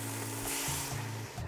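Prepared salt water poured into a pot of bean sprouts for Korean hangover soup, a close, steady liquid rush with a low hum underneath and no talking.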